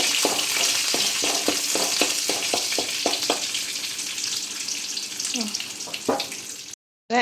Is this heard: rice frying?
yes